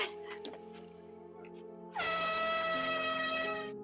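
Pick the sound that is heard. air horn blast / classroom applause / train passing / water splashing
air horn blast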